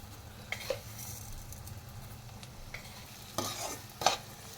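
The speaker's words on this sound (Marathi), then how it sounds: "आता हे सगळं मिक्स करून घेते" Poha being stirred with onion, salt and sugar in a pan, soft scraping and mixing strokes with a few sharper clinks of the spoon against the pan, fairly quiet and close.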